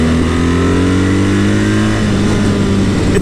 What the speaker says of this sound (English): When you start it up, it sounds like your standard boxer engine, but when you do accelerate